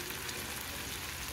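Chopped tomato fries in a pan with turmeric and salt, a steady dense sizzle filling the whole moment, close and continuous with no talk.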